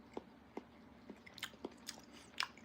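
A bite of egg fried in oil being chewed near the mic. It makes quiet, soft, wet mouth sounds in an irregular rhythm, with a few small crunchy clicks.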